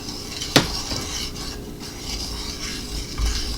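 A spoon stirs a salted mixture in a pot, giving one sharp metallic clank near the start followed by soft, low scraping and rubbing against the pot. The stirring is close and fairly quiet, with no talking.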